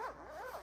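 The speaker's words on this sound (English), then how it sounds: "then it's just going to be secured with these zippers right over" A zipper is pulled closed on the fabric cover of an ICECO JP Pro Series portable car fridge, one quick close rasping zip with a rising and falling pitch and no speech.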